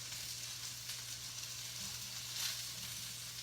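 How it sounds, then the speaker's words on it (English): Tofu browning in a pan for an orange-ginger stir fry, giving a steady, even sizzle with a faint low hum underneath and no talking. "We're just browning the tofu on each side."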